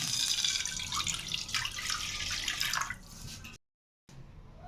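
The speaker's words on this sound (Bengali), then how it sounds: "শিরা করার জন্য 2 কাপ পানি দিয়ে দিচ্ছি।" Water poured into a pan to make sugar syrup for a bread kheer toast dessert, a steady broad splashing rush that runs for about three seconds, then a brief silence and a quieter watery patter.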